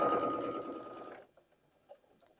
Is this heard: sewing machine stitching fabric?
yes